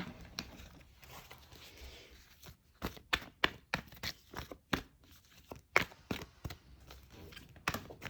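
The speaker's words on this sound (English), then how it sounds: "But let's do a legitimate shuffle." A deck of tarot cards being shuffled by hand, a fast run of crisp riffling snaps and soft slaps in irregular bursts, close and fairly quiet, with no talking.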